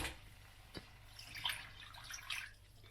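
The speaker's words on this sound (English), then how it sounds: "And then you add water." Water is poured into a pot of niku-jaga simmered with hondashi, giving faint, scattered splashes and trickles that come and go over a low, quiet background.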